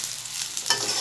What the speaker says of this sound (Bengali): তেলটা গরম হয়ে আসছে, ভেজে নিচ্ছি।